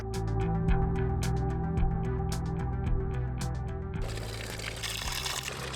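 Water poured into a washing bag holding clothes, a steady splashing gush close by that turns to a softer, rougher trickle toward the end, with no talking.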